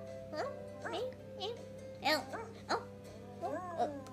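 A small dog barks and yips in a played video clip, a series of short high yelps and whines, faint and close together, mixed with voices.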